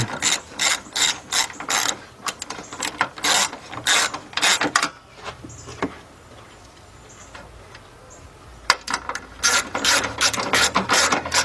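Ratchet tightening 13mm bolts during a timing belt job on a Chrysler, Dodge or Jeep engine, rapid bursts of loud clicking strokes, a quieter pause in the middle, then more clicking.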